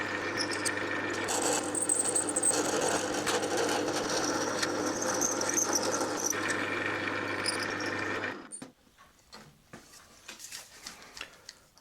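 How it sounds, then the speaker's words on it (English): Steady mechanical grinding and whirring of a drill bit boring into metal on a lathe, continuous and close for about eight seconds, then stopping abruptly, leaving faint scattered clicks. "This is the last drill, 64th under a 1/2 inch."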